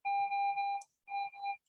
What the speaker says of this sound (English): that's just alarm going off in the background